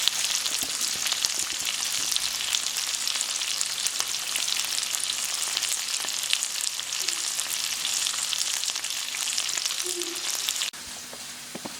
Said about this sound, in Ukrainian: картопелька смажиться